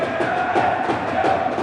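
Rival fans packed into the Paladante roller hockey arena for a derby roar continuously, a dense wall of chanting and cheering voices with no break.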